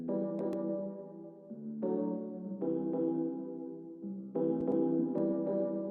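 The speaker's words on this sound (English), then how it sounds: "that's a very nice like stab chord pluck sound that just fits in perfect with that vibe" A synth pluck stab chord from Splice repeats in a short rhythmic pattern, with bright attacks shifting between a few chord positions. It is clean and upfront, heard alone without voices.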